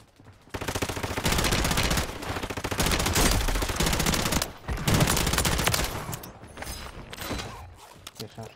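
Gunfire in the video game Warzone (Plunder mode): dense, sustained automatic fire in long bursts with a brief break midway, loud and continuous, mixed with game noise.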